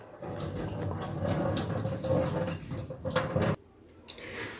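Sago pearls are squeezed and washed by hand in a bowl of water, giving close squelching and sloshing that stops sharply before a short, quieter trickle.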